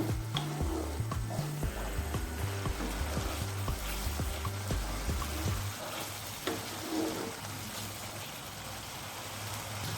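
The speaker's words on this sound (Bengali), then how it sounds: "এবার এই সব মশলাগুলোকে ভালো করে মিশিয়ে নেব" Masala paneer spices with salt and turmeric are stirred and sautéed in a pan, first with a rhythmic scraping and low sizzle, then a quieter, softer simmer, faint and close throughout.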